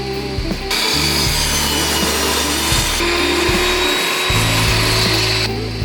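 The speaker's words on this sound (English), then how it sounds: "I used my table saw sled, first to make the block square, then I saw the block in slices." A table saw fitted with a sled cuts a square plywood block into slices: a loud, steady motor whine with a rough rasping bite as the blade goes through the wood, shifting in pitch between passes, with no talking.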